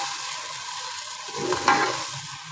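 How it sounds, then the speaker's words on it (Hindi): Chopped tomatoes and green chillies fry in a pan for a spiced potato dish, a continuous close sizzle with a brief burst of stirring near the end and no talk. "हरी मिर्चें, वो हम इसमें शामिल कर देंगे और टमाटरों को जो है इसमें भून लेंगे।"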